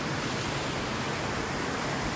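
Kawa Falls roars as a steady, dense wash of falling water, loud and continuous, with no voices.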